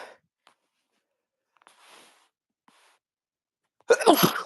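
A single sharp, close sneeze bursts out at the very end after near silence broken only by tiny clicks and a faint breath.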